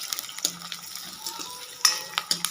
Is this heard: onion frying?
yes